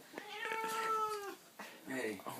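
A cat meows in a few drawn-out, wavering cries, fairly faint and a little distant, with people talking around it.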